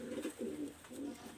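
Master pair pigeons, a breeding pair, cooing in a steady run of low, throaty calls at close range, one rolling coo after another with no break and no voices.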